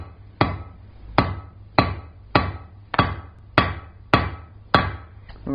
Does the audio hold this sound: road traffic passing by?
no